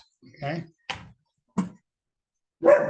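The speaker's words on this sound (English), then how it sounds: "Excuse my dog in the background." A big 10-month-old puppy yips and barks in short separate bursts somewhere in a home, while someone briefly speaks over the noise.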